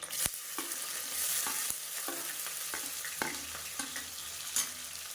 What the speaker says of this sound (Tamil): இப்போ வெங்காயம் கொஞ்சம் நல்லா கோல்டன் கலரில் வதங்கட்டும்